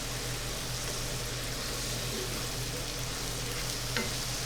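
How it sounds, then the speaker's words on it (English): A flat paddle scrapes and stirs rice kernels around the rim of a sizzling pan, a steady frying hiss with soft scraping throughout, close and even, without speech. "this flat paddle is nice because I can go right around the outer rim of this pan"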